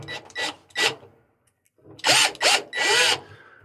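A power driver runs Phillips screws into the top of a Maytag washer during a lid switch repair, giving several short whirring bursts with pauses between, close and loud, with no talking.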